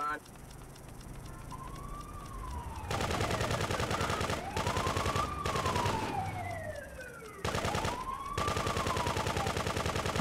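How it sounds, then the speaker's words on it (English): Machine gun fire in Grand Theft Auto 2 during a kill frenzy, rapid sustained bursts that start and stop, with wailing police sirens sweeping up and down alongside. "Machine gun is probably the most underwhelming weapon in this game"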